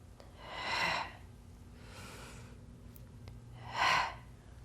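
Two heavy breaths push out during a Pilates core workout, a loud exhale near the start and another about three seconds later, with a softer breath between them. The breathing is close and alone, with a faint low hum under it.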